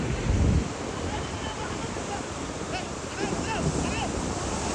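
Sea waves wash onto a beach where boats sit, mixed with wind rumble on the microphone and distant voices, a steady surging roar throughout.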